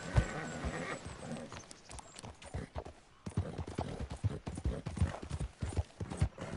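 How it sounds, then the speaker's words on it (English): Horse hooves clip-clop steadily in the Red Dead Redemption video game, a continuous irregular patter of fairly quiet, close hoofbeats with faint background sounds. "Did you know the horse you start out with on Red Dead Redemption is the one that John Marston used"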